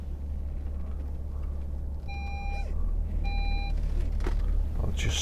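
Warning beeps inside a 2010 Audi Q7 3.0 TDI S line Tiptronic, two short steady electronic tones over the low rumble of the cabin while driving.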